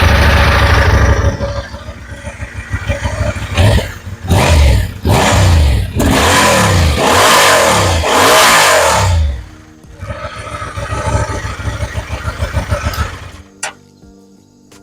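An adventure motorcycle fires up loudly, then gives a run of sharp throttle blips and rising revs that roar and fall back, settles into a steady idle and finally cuts off.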